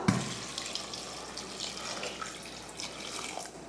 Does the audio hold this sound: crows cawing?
no